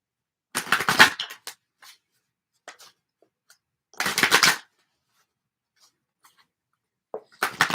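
Tarot cards are shuffled for a card reading, making close, crisp riffling bursts in three separate bouts. Sparse small taps and rustles fall between them in otherwise quiet surroundings.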